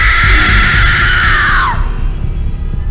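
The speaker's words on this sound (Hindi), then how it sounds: "मैरी की दादी को जोरों की चीख सुनाई दी" A loud, shrill scream in a horror story holds for nearly two seconds, then cuts off sharply and leaves a low, dark rumble.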